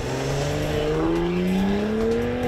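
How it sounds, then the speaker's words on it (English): A 2020 Cadillac CT5-V engine revs steadily upward, a smooth rising drone up close; no distinct exhaust pops stand out. "I love the snap, crackle, pop of the exhaust"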